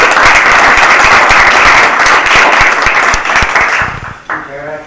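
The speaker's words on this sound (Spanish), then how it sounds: "Un fuerte aplauso." Audience at an economics talk breaking into loud, dense applause, many hands clapping close and steady before tapering off near the end as a voice begins.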